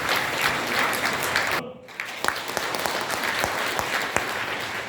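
A convention-hall audience at a book launch in Jongno applauds a chairman's congratulatory speech: steady, dense clapping from a large crowd that dips briefly into near-silence, then swells again with sharp individual claps standing out.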